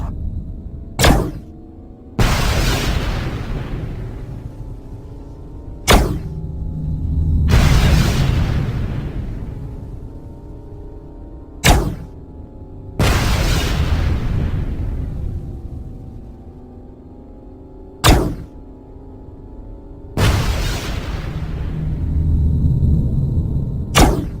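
Space mines explode one after another as they are shot during pilot training in the space combat game Tachyon: The Fringe, each a sharp crack followed by a loud, rumbling boom that fades, repeated about five times with no talking.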